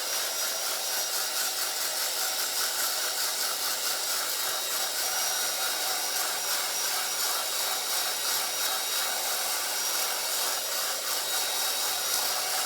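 A heat gun used for scrapbooking runs continuously with a steady, loud airy hiss that has no breaks and no talk over it.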